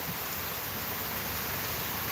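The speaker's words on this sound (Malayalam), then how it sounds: "മഴയോട് മഴ അടിപൊളി മഴ" Heavy rain on a rainy evening hisses in a dense, constant wash of noise, fairly quiet and unbroken throughout, with no voices.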